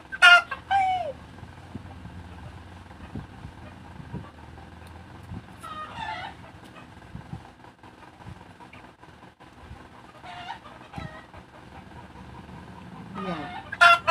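Chickens cluck and squawk in several short bursts at moderate distance, with quieter rustling and background noise between calls.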